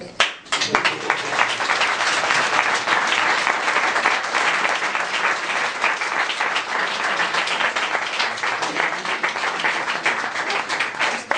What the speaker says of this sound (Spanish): Pues le habéis dado un aplauso muy...